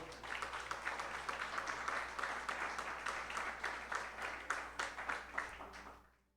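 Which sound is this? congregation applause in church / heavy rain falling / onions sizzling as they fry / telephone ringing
congregation applause in church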